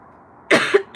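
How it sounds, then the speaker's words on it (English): A sudden cough bursts out twice close to the mic, a harsh throaty hack followed by a second starting cough, after a quiet lull with no talking. "ooh, I'm coughing all of a sudden."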